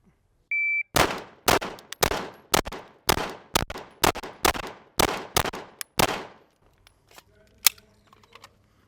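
A Glock pistol fitted with a red dot sight fires about a dozen sharp, loud shots in a fairly even rhythm after a starting beep, each crack ringing out briefly outdoors.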